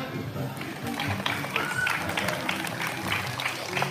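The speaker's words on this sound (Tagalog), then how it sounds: "Palakpak!" An audience claps at an outdoor feeding program in Bulan, Sorsogon, a loose crowd of hands heard under lively talk and background voices.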